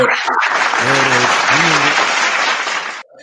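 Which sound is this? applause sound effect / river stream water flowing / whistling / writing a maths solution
applause sound effect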